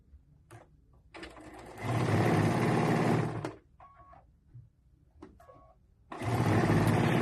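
A sewing machine stitches a quarter-inch quilt seam for a baby quilt, running in two loud sustained bursts of about 1.5 seconds each, separated by quiet pauses with small clicks and handling sounds.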